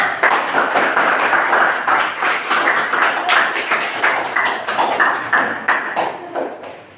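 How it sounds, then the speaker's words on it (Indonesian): A classroom group claps together for a student group in a steady, lively burst of applause, close and continuous for several seconds. "Beri tepuk tangan untuk kelompok 6"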